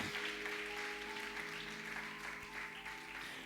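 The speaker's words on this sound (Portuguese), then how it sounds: "Glória a Deus, podemos aplaudir." Faint, distant applause from a church congregation, a steady patter of clapping over a low hum.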